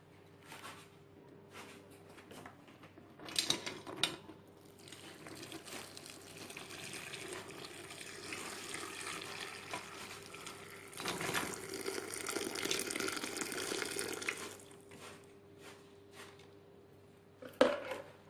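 Strained liquid poured through a fine sieve over sugar for homemade honey, a faint trickle that swells into a steadier pour for a few seconds before tapering off, with light clinks of a utensil.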